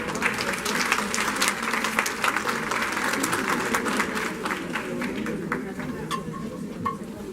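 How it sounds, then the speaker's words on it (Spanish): Audience at a talk on newborn care applauding loudly: a continuous wash of close, crisp clapping from many hands, with a few louder individual claps standing out as it slowly winds down. "la recibimos con fuertes aplausos"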